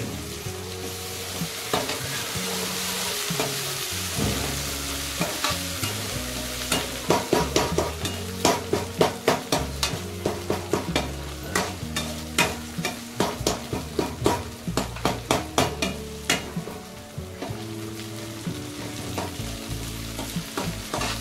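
Eggplant and green chilies frying in hot oil for a dal vangi dish, a strong continuous sizzle broken by rapid repeated scraping stirs of a spatula against the pan, loud and close, with no voices.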